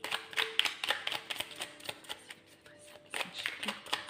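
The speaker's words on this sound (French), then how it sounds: "on va peut-être mélanger un petit peu avant quand même" Tarot cards being shuffled by hand, a run of quick crisp riffling bursts and papery flicks in an irregular rhythm, close and fairly loud, with a brief quieter lull partway through.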